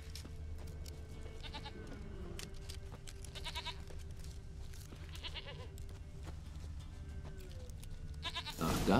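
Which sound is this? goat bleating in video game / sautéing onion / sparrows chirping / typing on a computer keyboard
goat bleating in video game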